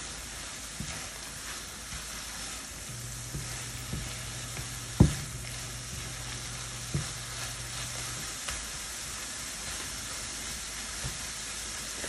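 Apple turnover filling with corn starch cooking in a pan, a steady soft sizzling hiss with a low hum and a sharp clink near the middle, close and without talk.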